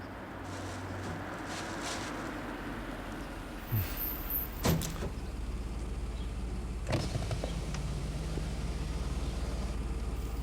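A car turning around produces a steady low engine hum throughout, with a few faint clicks and soft thumps partway through and no voices.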